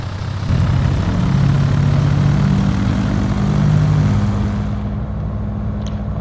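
Piper Seminole PA44-180 twin-engine piston airplane in Microsoft Flight Simulator 2020 drones loudly and steadily with a throbbing low propeller hum, fading slightly at the end.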